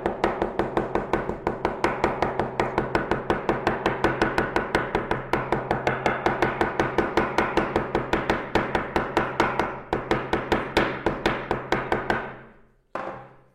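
A hammer taps rapidly and steadily on plant leaves laid on fabric, printing them in the tataki zome technique; dozens of close, sharp strikes run evenly for about twelve seconds, then stop, with one last lone knock.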